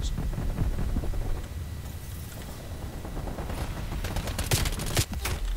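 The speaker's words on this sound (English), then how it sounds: "So much explosions, so many explosions." Rapid bursts of gunfire and booming explosions crowd together in a dense, chaotic Call of Duty: Black Ops Cold War battle, including OTS 9 fire, loud and continuous.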